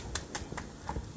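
Tempering ingredients for South Indian lemon rice (chitranna) crackle in hot oil as a handful of faint, sharp pops that come at an uneven rhythm.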